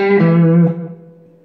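A hollow body electric guitar played clean through an Atomic amplifier rings out with a full chord that sustains briefly, then decays smoothly into quiet.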